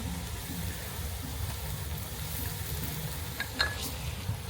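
Ginger paste frying in a pan gives a steady, close sizzle with soft stirring scrapes, a home kitchen cooking a festive family meal.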